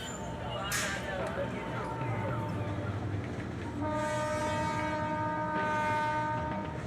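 A passenger train rumbles past in Mumbai, its horn sounding in repeated steady harmonic blasts over continuous rail noise, with voices audible in the mix.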